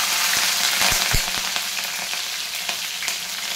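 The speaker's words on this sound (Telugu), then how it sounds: "ఆనియన్, అల్లం 2 కలిపి వేగనియాలి" Green chilies, onion and ginger fry in hot oil in a kadai, a loud continuous sizzle with sharp crackles and pops in the first second, settling into a steady hiss, with no talk.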